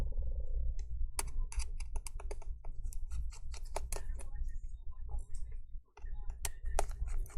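A T3 screwdriver backs screws out of a MacBook Air A2337 laptop during a screen replacement, making a quick run of small, close, dry ticks and clicks that are steady and irregular.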